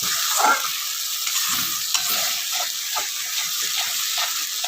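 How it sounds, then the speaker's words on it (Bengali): A spiced duck egg curry with salt, turmeric and cumin is stirred in a hot pan: a constant sizzle beneath repeated scraping and stirring strokes, close up with no talk. "খুব ভালো করে নাড়াচাড়া করতে হবে"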